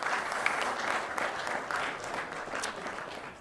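An audience gives cricket captains a round of applause, a steady wash of many hands clapping with a few sharper nearby claps standing out, moderately loud and continuous.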